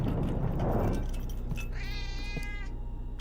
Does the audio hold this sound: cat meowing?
yes